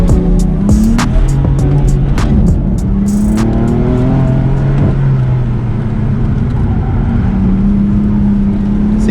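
A BMW F80 M3 engine drones loudly from inside the car on a race track, its pitch sliding up and down with the throttle, with ticking bursts early on as the tires slip.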